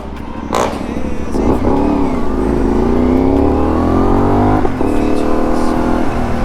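A CFMOTO 450MT motorcycle on new Michelin Anakee Adventure tires hums and rises in pitch as it accelerates, with road rumble and wind noise, loud and close throughout.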